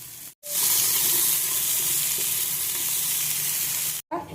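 Loud, steady sizzling of seeds frying in hot oil, close up, continuous for several seconds with brief breaks at the start and end.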